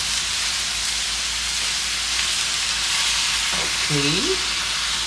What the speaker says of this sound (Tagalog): Stir fry lang natin.